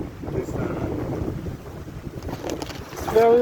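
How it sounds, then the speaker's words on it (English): Strong gusty wind outdoors buffets the microphone with a loud rumbling roar that rises and falls, and a faint chime rings near the end. "It's very windy"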